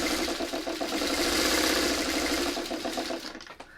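Sewing machine stitching quilt pieces together, a steady fast whirring hum with rhythmic needle chatter, close and continuous before slowing and stopping near the end, no talking.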